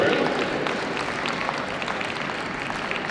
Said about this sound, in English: Big round of applause, ladies and gentlemen, to our other shortlisted Gundog Group finalists as they leave the room.